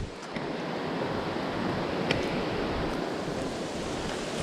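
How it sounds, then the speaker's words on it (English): Flowing water of Noland Creek, a river in the Great Smoky Mountains, heard as a steady, close broadband rush with no pauses and no voices. "Beautiful river."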